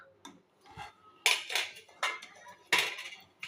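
Vermicelli kheer (sevai) is ladled into a small serving bowl, with a few close, bright clinks and scrapes of a spoon against dishes in quick, uneven succession.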